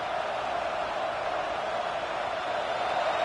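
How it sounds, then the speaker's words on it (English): A dense, steady roar from a large stadium crowd at a Michigan State vs Iowa basketball game fills the whole stretch, loud and continuous with no breaks or distinct voices. "Listen to the crowd energy here in the early going."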